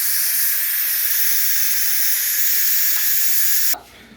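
An Instant Pot doing a quick pressure release while cooking chicken and dumplings lets out a loud, steady, close hiss of venting steam that cuts off abruptly near the end.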